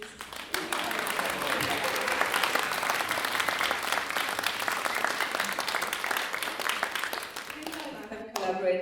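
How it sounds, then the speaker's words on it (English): An audience applauds a choir director at a combined choir event in Bankstown, sustained dense clapping filling the hall for about eight seconds before tapering off, with a voice briefly heard at the end. "Absolutely deserves as much applause as you can give her."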